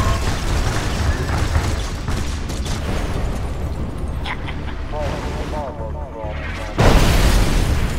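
Artillery fire and explosions in the Kane's Wrath strategy game: rolling booms and blasts over a dense rumble, quieter in the middle, with a loud, sharp explosion near the end.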